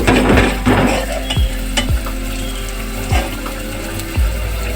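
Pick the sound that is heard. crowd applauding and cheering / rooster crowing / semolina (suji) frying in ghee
semolina (suji) frying in ghee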